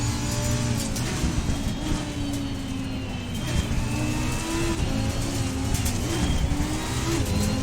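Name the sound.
Lamborghini race car engine, video game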